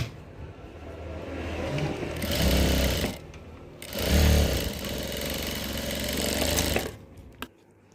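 A sewing machine stitches fabric in bursts, its rapid motor whir rising and falling over two louder runs, fairly close, ending with a short click.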